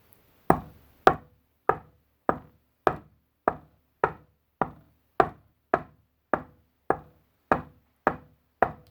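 A person imitating constant knocking on a door: about fifteen firm, even raps at a steady pace of roughly two per second, close and clear with no voices.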